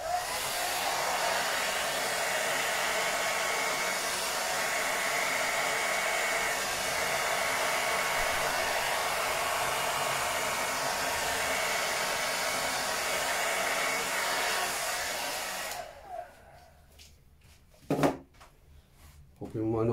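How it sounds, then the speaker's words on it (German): Hair dryer blowing steadily at close range for about fifteen seconds while painting a fluid-art piece with cell-forming additives, then switching off to near silence with a few faint knocks. "So, der Föhn."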